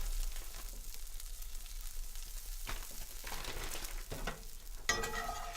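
Breadcrumbs toast in pork chop pan drippings with a constant close sizzle, broken by scraping stirs and a few brief clatters against the pan.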